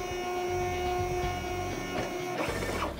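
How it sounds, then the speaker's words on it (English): An RFID label printer feeds several labels through while calibrating label length, a steady mechanical whir and hum with clicking feed motion building toward the end, close and continuous with no talk. "The printer feeds a few labels and automatically calibrates that label length."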